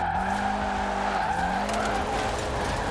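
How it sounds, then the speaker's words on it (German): In Forza Horizon 4, an all-wheel-drive VW Golf 6 R on racing tires drifts sideways, its engine droning with shifting revs under continuous loud tire squeal and skidding. "Die Karre geht dann einfach konsequent selber quer."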